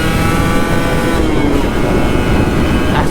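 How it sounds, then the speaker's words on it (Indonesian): Kawasaki Ninja RR 150 two-stroke motorcycle engine revving steadily on a street ride, with dense continuous engine roar and road noise throughout, a faint brief voice near the end. "Itulah nikmatnya ngegas ninja bro."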